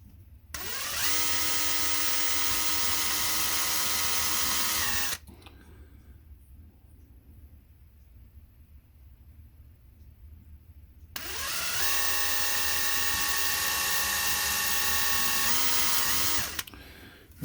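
A small power drill bores a hole in a plastic part for a 1969 Dodge Charger 1:25 scale MPC model kit, running in two steady whining bursts of about five seconds each, separated by a quiet pause.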